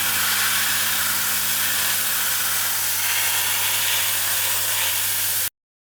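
An airbrush hisses steadily while spraying field blue deck paint onto a Tamiya 1/350 Fletcher-class destroyer model, with a low hum beneath, then cuts off abruptly.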